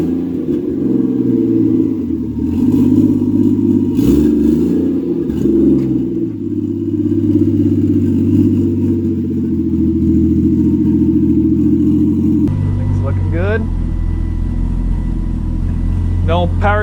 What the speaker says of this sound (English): so this is going to be a very, very interesting first drive down the street here